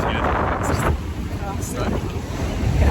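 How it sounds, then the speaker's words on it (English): Steady wind buffeting a microphone at a ski resort in Cervinia, Italy, roaring and rumbling throughout with a faint wash of water in the background. "It's a bit windy today."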